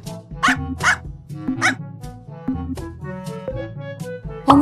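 A Pomeranian dog barks in a string of sharp, high yaps, about half a dozen over a few seconds, close and fairly loud with no voices.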